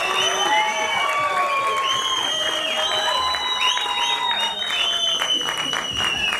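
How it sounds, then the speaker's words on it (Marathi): An audience at a Marathi film trailer launch event applauds the director as he is called on stage, with continuous loud clapping, whistles and cheering, and some crowd voices mixed in. "एकदा जोरदार टाळ्या तुषार शेलार यांच्यासाठी झाल्या पाहिजे."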